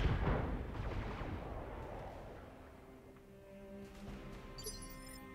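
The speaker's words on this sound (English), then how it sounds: "I'm gonna shoot some more at this catapult which is shut down here" Mech weapons fire at a Catapult mech in the Battletech video game: one heavy booming blast at the start that rolls off into a fading rumble, fairly quiet overall.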